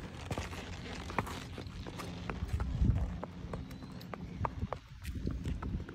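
Hooves of a 2011 American Quarter Horse clip-clop at a walk on a hard surface, a steady rhythm of moderately close hoof strikes over a low background rumble.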